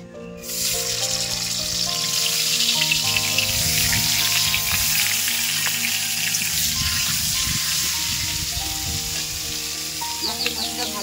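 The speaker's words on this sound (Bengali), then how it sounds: "মাছের মাথাটা ভাজা হোক" A fish head rubbed with salt and turmeric fries in oil in a kadai, giving a loud, steady sizzle that starts abruptly and continues throughout, with faint clinks and a low background hum.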